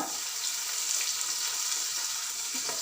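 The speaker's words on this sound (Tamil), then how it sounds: "இப்போ இந்த ஆனியனில் வந்து நம்ம மேரினேட் பண்ண சிக்கனை வந்து வச்சிடலாம்" Onions frying in a pan give a steady, close hiss and crackle as marinated chicken is laid on them over medium flame for a chicken mandi, with no talking.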